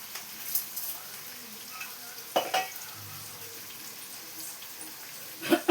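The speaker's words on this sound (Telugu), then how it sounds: "Chicken curry వండుతున్నా." Chicken curry with salt sizzles in a pan while a spoon stirs it, producing a soft frying crackle broken by a few sharper scraping stirs near the end.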